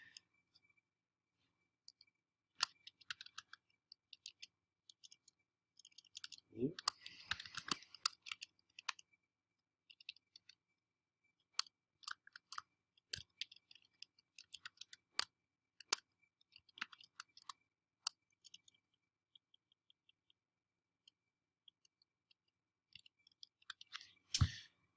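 Someone types a title on a computer keyboard. Light, scattered key clicks come close and faint in uneven bursts with gaps, and there is no speech.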